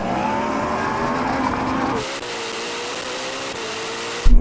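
A drag race between a Ferrari SF90, a Porsche Taycan Turbo GT and a Yamaha R1M, with a loud engine whine climbing in pitch and then cutting off abruptly, followed by a quieter rush and a sudden burst at the end.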